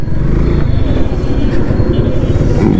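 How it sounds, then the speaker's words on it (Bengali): A motorcycle engine idles close by with a low, uneven throbbing rumble that holds steady through the short stretch, before the bike is parked. "বাইকটা এখানে রেখে দেই।"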